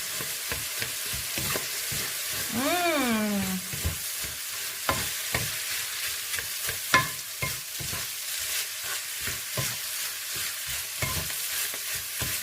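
Seafood fried rice is stir-fried in a pan. A spatula scrapes and stirs in a steady rhythm over a constant loud sizzle, with a brief vocal sound partway through.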